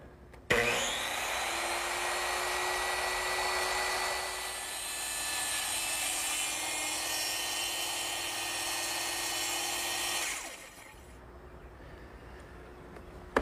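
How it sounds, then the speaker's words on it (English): A circular saw makes a slow plunge cut along a straight-edge clamp, a loud steady whining roar held for about ten seconds before spinning down, with no talking. "I'm going to make a plunge cut, which means I'm going to lower the blade through the work and carefully go along the line"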